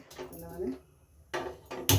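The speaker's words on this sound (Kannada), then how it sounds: "ಈಗ ಬಾಣಲೆ ಇಟ್ಕೊಂಡೆ" A metal kadai pan is set down on a kitchen stove, giving a couple of short clanks after a voice speaks.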